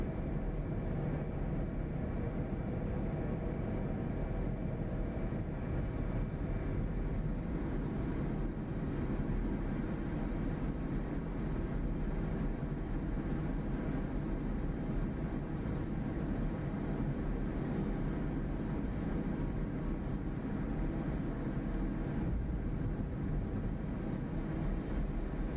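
An F/A-18C jet in the DCS World flight sim drones with a steady, unbroken engine roar that holds at an even level for the whole stretch, with no voices.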